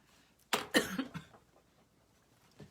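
A short fit of coughing: two or three harsh coughs in quick succession, then a faint final cough after a pause, nearby and otherwise quiet.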